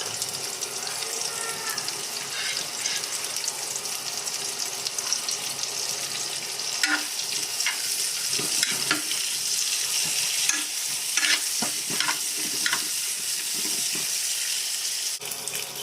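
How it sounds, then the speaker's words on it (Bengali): Onions and chillies sizzling in hot oil in a home kitchen, a continuous hiss with scattered stirring scrapes and clinks, and no talking. "এবার তেলটা গরম হয়ে গেছে, এই জন্য এরপরে আমি পেঁয়াজ আর মরিচ দিয়ে দিলাম।"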